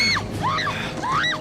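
A woman's shrill, wavering screams, Mary Jane in a Spider-Man film, come as three rising and falling cries in close succession, loud and near, ending abruptly.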